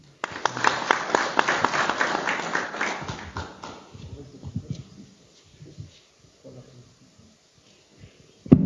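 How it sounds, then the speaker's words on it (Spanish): An audience at a civic dialogue event in Cayambe gives a burst of applause that rises quickly and holds for a few seconds, then thins into scattered claps and faint room noise before fading. "Un aplauso, por favor."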